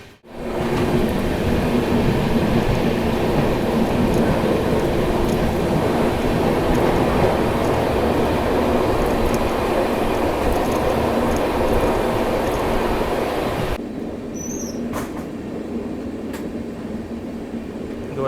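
The Kacheguda (Hyderabad) to Madurai Weekly Superfast Express, train 22715, running at speed: a loud, steady rumble and rattle of wheels and carriages, dropping slightly quieter near the end.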